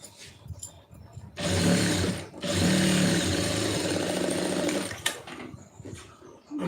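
A sewing machine runs a line of stitching through cloth for a tailoring job, its rapid whirring motor starting loud and close, pausing briefly, then running steadily for several seconds before stopping, with no talk over it.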